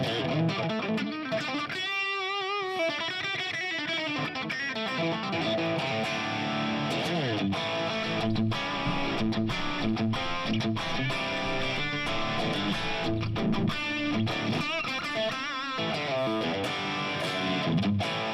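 A crunchy, overdriven electric guitar through a Fractal Marshall Plexi amp preset with plate reverb plays chords and single-note lines with a roomy reverb tail, loud and continuous with no talking.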